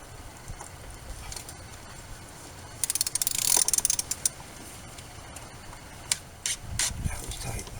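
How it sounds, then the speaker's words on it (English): A half-inch ratchet with a 36 mm socket slowly works loose a tight fuel filter cap on a 2008 Ford Powerstroke diesel truck, with a burst of quick ratcheting clicks in the middle and a few scattered clicks after, fairly quiet. "And I get 36-inch socket on this, half-inch ratchet. I move this very gently."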